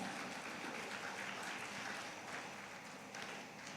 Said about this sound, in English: Please give them all a huge round of applause.